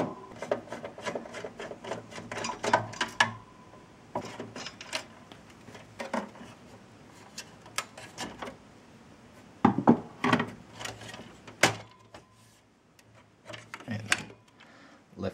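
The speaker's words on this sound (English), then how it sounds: "heatsink is held in place with two screws. One is down there, one is down the other side. You just slacken those off" Small screwdriver slackening two heatsink screws on a Dell Optiplex BTX minitower desktop, giving close, irregular scraping and ticking clicks in short bursts with quiet gaps.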